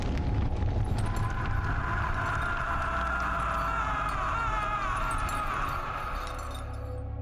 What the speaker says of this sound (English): After that you can hear a fire and screaming in the background.